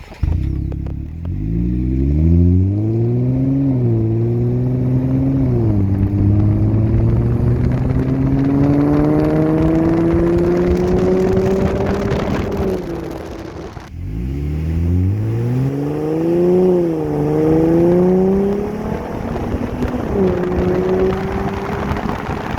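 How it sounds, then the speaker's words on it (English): A Jeep Gladiator fitted with a MagnaFlow Street Series exhaust accelerates down the road, its engine note climbing through the gears and fading. A second loud pass follows, rising and shifting the same way, heard from outside with no talking. "see if we can get some sound clips of what it sounds like from outside of the vehicle going down the road"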